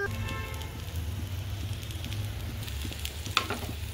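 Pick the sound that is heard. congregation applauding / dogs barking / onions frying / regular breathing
onions frying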